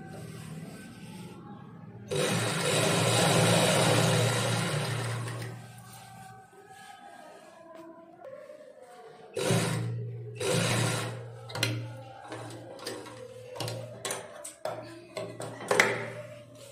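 A sewing machine runs in a sustained whirring burst while stitching elastic onto a sari, then stops; shorter stitching bursts and clicks of handling follow, close by.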